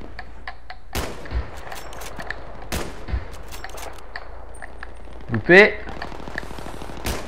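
Gunfire aimed at the player in the shooter Battlefield 3: scattered sharp shots and cracks at irregular intervals, some near and some distant, with a brief burst of louder fire near the end, while someone speaks.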